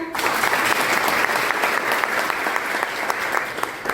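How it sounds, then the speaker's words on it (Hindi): An audience at a college cyber crime awareness program claps for their parents, dense continuous applause filling the space for several seconds without letting up. "सभी के पेरेंट्स के लिए ताली बजाएं।"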